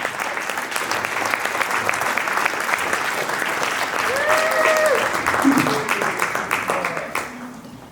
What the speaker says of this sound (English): Geneva, keep clapping for us.